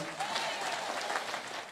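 A rally crowd breaks into dense, steady applause for a local leader, a mass of clapping with a few voices mixed in.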